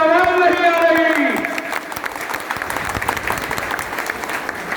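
A crowd at a political rally applauds, dense clapping swelling up as a speaker's voice fades out, then continuing steadily and loudly on its own.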